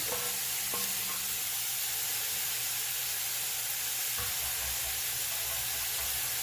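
Corn soup with carrots, celery, sweet potato and hot pepper simmers in a pot, giving a steady close hiss and bubbling broken by a couple of brief stirring knocks against the pot.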